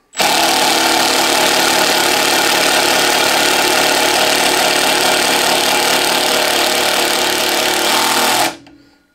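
A Makita XDT16 impact driver runs at speed setting 2, a loud, close, continuous rapid hammering buzz held for about eight seconds before stopping abruptly.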